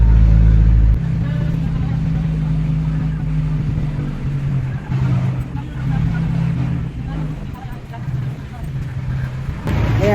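UV Express van riding toward Antipolo in traffic, a steady low engine and road rumble throughout, with people talking over it.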